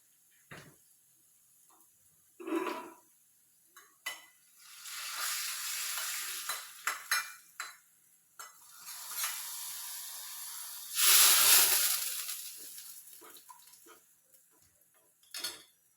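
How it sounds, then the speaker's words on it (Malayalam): Mustard seeds frying in a pan with a little chili powder and curry leaves added for a home-cooked Kerala curry, giving bursts of crackling sizzle and hiss with occasional stirring clinks of a spoon against the pan, fairly close. "കടുക് വറുക്കുന്നതിനകത്തൊരു ശകലം മുളക് പൊടി, പിന്നെ കറിവേപ്പില ഇടുന്നുണ്ട്."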